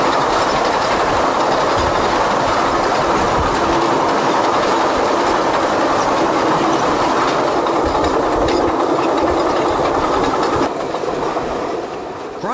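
A freight train rumbles steadily along the tracks with continuous clattering and rolling noise, heard from the back end, loud and close throughout, easing slightly near the end.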